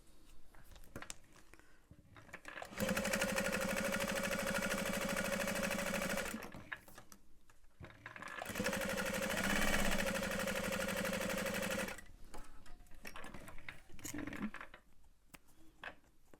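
A sewing machine top stitching a bag runs in two steady, loud, buzzing bursts of a few seconds each, separated by a short pause with quieter handling noise around them.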